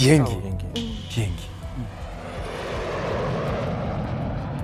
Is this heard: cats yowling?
no